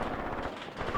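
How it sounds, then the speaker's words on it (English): Night-time machine-gun fire in the Graviteam Tactics war game, a dense, steady rattle of rapid shots with distant gunfire mixed into a continuous battle din. "Machine guns at night."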